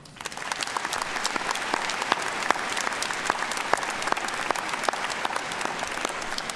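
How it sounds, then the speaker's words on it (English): Sustained applause from a crowd at a college commencement ceremony, dense steady clapping at an even level throughout with no talk over it. "Please give them a round of applause."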